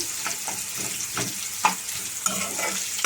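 Okra and onions stir-fry in a pan, a steady close sizzle broken by a series of scraping stirs and a couple of sharp clinks from a spatula against the metal, with no voices.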